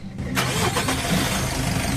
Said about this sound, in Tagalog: Pa-start ko na nga itong makina.